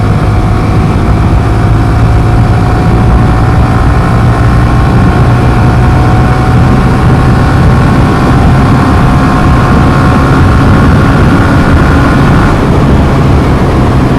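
A Suzuki GSX-R motorcycle revs hard on an empty morning road, its engine a loud, continuous drone that holds steady with a slowly rising pitch under heavy wind rush.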